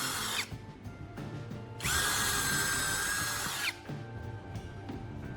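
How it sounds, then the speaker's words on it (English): A power drill whirs into wood in a single sustained burst lasting a couple of seconds, with quieter handling noise before and after. "Again, I drill through the wood, creating clean passages for the next screws."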